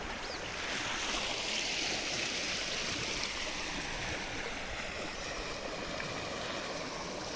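A forest stream flows steadily into the woods, a constant broadband rush of water that stays close and even throughout with no voices.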